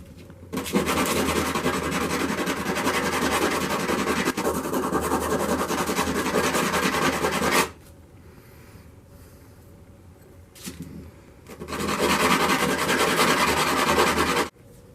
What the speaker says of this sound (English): I'm sanding, is rocking it gently back and forth